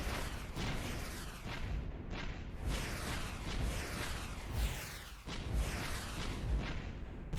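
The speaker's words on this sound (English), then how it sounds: "And now we're shooting down some of their missiles" Enemy missiles being shot down in the space strategy game AI War Classic, a dense, continuous barrage of booms and whooshing bursts layered over each other at moderate volume, with no voices.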